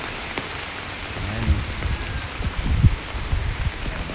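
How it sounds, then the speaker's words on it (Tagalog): Heavy typhoon rain pours steadily onto surfaces with gusting wind, a loud continuous hiss broken by low thumps and rumbles, close and without talk. "Bumabakbak na yung mga ulan"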